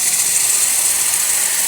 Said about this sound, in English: Excellent steam, working perfectly.